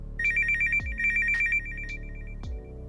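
A work phone rings loudly and close, two bursts of a trilling electronic ringtone with a lingering tail, each cut by a low thud.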